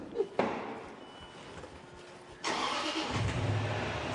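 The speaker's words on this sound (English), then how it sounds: "just turn the engine on for us, basically to see if you're over the carbon monoxide level" A new car's engine turns over and starts for a carbon monoxide emissions check, a short burst of starter noise followed by a steady, fairly loud idle near the microphone.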